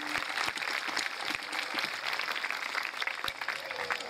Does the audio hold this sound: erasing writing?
no